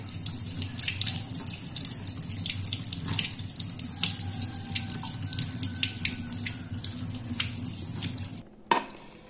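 Tap water runs steadily from a faucet into a sink while a crab is washed under it, a continuous splashing hiss with small clinks, ending abruptly near the close.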